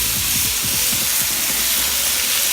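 Beef hits a hot Blackstone griddle for a stir-fry beside cooked rice, a loud, dense hiss and sizzle close up with faint low rhythmic thumps underneath.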